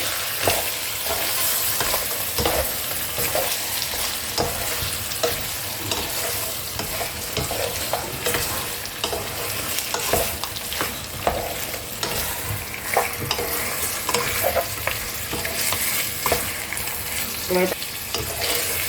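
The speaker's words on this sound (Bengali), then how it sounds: "মাংসটা একটু নাড়াচাড়া করে মশলাটা আমি মিশিয়ে দিচ্ছি" Mutton is stirred through masala in a frying pan for saffron korma: a continuous close sizzle with repeated scraping and clacking strokes of the spoon, steady and loud throughout, no speech.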